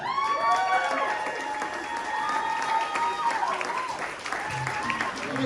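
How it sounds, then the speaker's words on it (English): Wedding guests applaud newlyweds Scott and Jessie at The Dumbo Loft in Brooklyn, a steady, fairly loud round of clapping with cheering and voices mixed through it for the whole stretch. "Can we get a big round of applause?"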